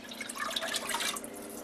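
Beef broth from the freezer pours into a pot already holding water for Bulgarian lamb drob sarma, a steady near splash and trickle of liquid lasting under two seconds with no talking.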